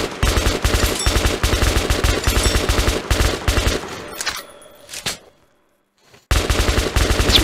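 Rapid automatic gunfire in Metro: Last Light Redux, loud dense bursts that stop abruptly, leaving a brief near-silent gap before firing resumes.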